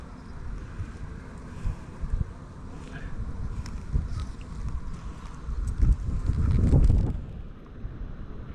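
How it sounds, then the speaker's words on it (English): Outdoor wind gusting across an apiary during spring hive inspections, a steady broadband rush that swells into a louder gust near the end. "that's a bit of a wind coming across there today"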